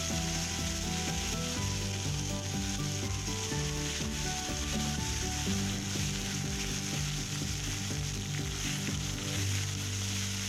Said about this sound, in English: I pour the blend into the pan and toast the tomato chutney